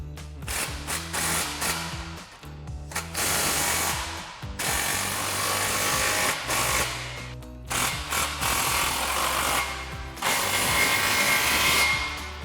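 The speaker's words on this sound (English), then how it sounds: "Grab our impact and 15mm socket, and tighten it down." Impact wrench with a 15mm socket tightening exhaust clamps on a 2011-2014 Mustang GT cat-back exhaust: several loud, close bursts of rattling hammering separated by short pauses.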